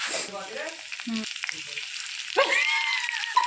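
Cumin seeds crackle in hot oil for tomato soup, a close sizzle with scattered pops and short clinks, broken by a brief tonal squeak partway through and rising again near the end.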